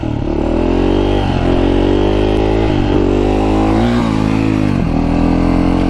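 A KTM mini bike engine rides in first gear, a loud, close buzzing drone that surges and dips as the throttle is worked, with rhythmic revving swells and no voices.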